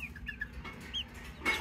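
A small backyard flock of chickens with a rooster gives short scattered clucks and chirpy calls close by, with a louder burst near the end, no one talking.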